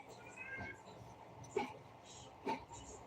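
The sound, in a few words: cat meowing in the background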